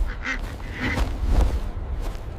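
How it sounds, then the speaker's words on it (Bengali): A cartoon duck gives a few close, nasal quacks in quick succession against a faint background, with no speech over them. "কি বড় হাঁস!"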